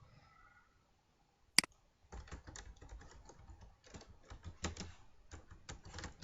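CSS code typed on a computer keyboard: a single sharp click stands out first, then brisk, uneven keystrokes rattle on steadily and close by.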